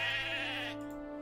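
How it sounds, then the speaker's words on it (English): A single sheep bleats in the video game Lord of the Rings Online (Before the Shadow), a close, wavering bleat that tapers off alone, without speech. "we were getting ready to be assaulted by sheep"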